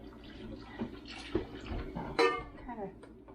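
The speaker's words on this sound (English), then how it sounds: "pour some of this liquid in there." Liquid poured into an Instant Pot while making pulled pork, a soft splashing trickle with a few clinks of a container, under intermittent kitchen talk.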